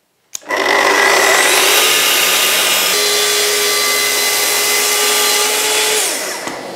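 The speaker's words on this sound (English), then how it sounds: "And so I could set this up for a cut. And this is 18 mil thick MDF" A power saw cuts a panel of 18 mm thick MDF, starting with a sharp click, then a loud steady whining roar of motor and blade for about six seconds before it spins down.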